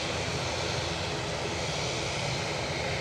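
A Ryanair airliner departing Edinburgh Airport for Naples gives a steady, loud broadband engine roar that holds level throughout with no voices.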